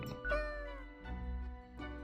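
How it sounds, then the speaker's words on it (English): A cat meows in the video game Death and Taxes, with two or three clear, close mews in quick succession and no talking. "I think it might have been the cat, dude."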